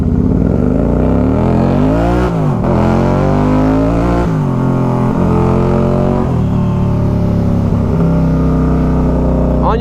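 Can-Am off-road vehicle engine revving loudly up close, rising and falling repeatedly in throttle sweeps that dominate throughout.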